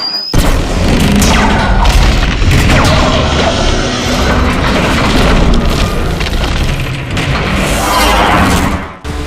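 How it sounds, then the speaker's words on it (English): A bridge is destroyed in a Transformers Cybertron video game with a long, loud, booming roar of explosions and crashing debris, rumbling continuously for several seconds before it cuts off. "Finally, the bridge is destroyed."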